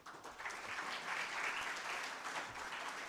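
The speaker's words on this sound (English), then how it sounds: "we should all give a big round of applause for Dr. Ravi Shankar." An audience at a live stage event applauds with a steady, dense wash of clapping that holds at an even level for the full stretch, with no voices heard over it.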